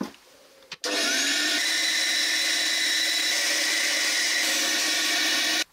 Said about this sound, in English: I'll go on the bandsaw and trim those round